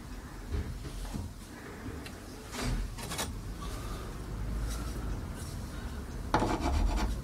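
A hand rasp scrapes wood to widen a groove on a homemade crosscut sled for a DeWalt table saw, rough rubbing strokes at an uneven pace, close up, with no talk.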